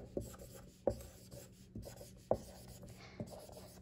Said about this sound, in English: So go ahead and write that for number four.